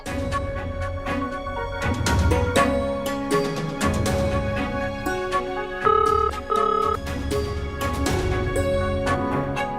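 A melodic phone ringtone plays on its own, a looping electronic tune with bright repeating notes at steady volume.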